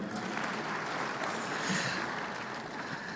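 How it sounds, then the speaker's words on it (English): Audience at an African summit main conference room breaking into applause: a steady, faint wash of crowd clapping with no distinct individual claps standing out, no speech. "Please, a round of applause for them."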